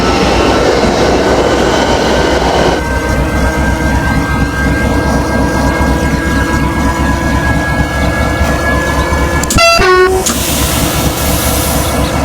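A Z50000 electric train on the Dijon to Nancy service, running at about 120 km/h, rumbles loudly and steadily, then gives one short, sharp, close horn blast near the end.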